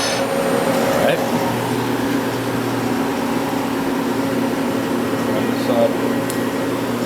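The spindle of a Citizen M-20 CNC Swiss-type multi-axis lathe runs at speed, giving a steady mechanical hum with faint tonal whine, continuous and close, with no clear talk.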